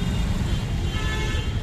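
Dense morning road traffic in Guwahati, a steady close rumble of engines with a car horn tooting over it, no voices.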